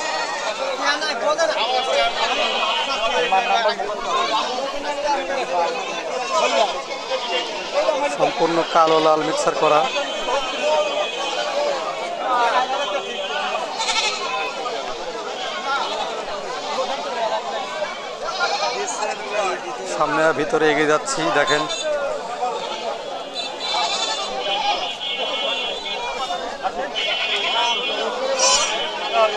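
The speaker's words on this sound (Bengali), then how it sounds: "কত সুন্দর রং বেরঙের ছাগল, শুধুই দেশি জাতের ছাগল।" Native local-breed goats bleating throughout a crowded Sunday livestock market in Chatmohar, Pabna, repeated calls rising over steady crowd chatter while someone talks nearby.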